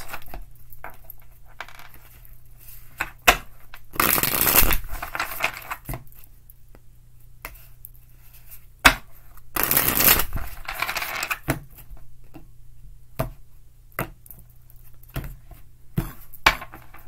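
Tarot cards being shuffled, heard as two short bursts of riffling paper a few seconds apart, with scattered small taps and clicks of card handling in between and no voices.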